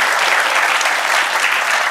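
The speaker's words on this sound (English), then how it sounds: "let's give our four participants a round of applause" Studio audience applauding four participants after an illusionist's mind-reading demonstration on a talk show, a dense, steady wash of clapping held loud and close throughout.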